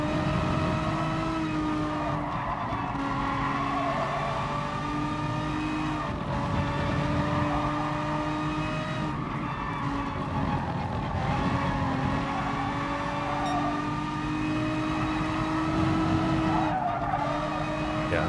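A Renault Megane Trophy GT4 race car in the GT Sport video game laps Suzuka Circuit, its engine droning steadily with rising and falling revs through the corners and occasional tyre squeal, continuous and without talk.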